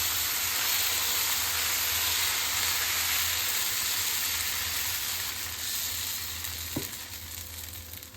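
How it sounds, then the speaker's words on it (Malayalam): Dosa batter spread thin on a hot pan gives a steady, loud hissing sizzle that continues evenly throughout, with a brief knock near the end and no talking. "ദോശമാവ് എടുത്തിട്ടിടും. ഇത് നന്നായിട്ട് കനം കുറച്ച് പുരട്ടാം."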